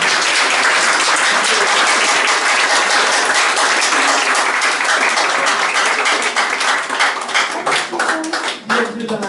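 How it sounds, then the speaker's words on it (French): A church congregation at a Sunday service applauds loudly, a dense, continuous roar of clapping that thins toward the end into scattered individual claps, with faint voices mixed in. "Je vous demande de les applaudir."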